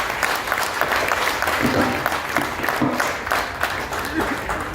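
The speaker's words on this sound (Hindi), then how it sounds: "आप लोग जोरदार तालियों से स्वागत कीजिए" A crowd applauds steadily and loudly, dense clapping filling the space with indistinct voices mixed in.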